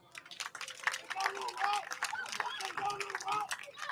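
A crowd at a high school football game between the Ripley Tigers and Houston Hilltoppers applauds the senior players, scattered clapping and cheers heard at a distance beneath an announcer's voice over the stadium speakers.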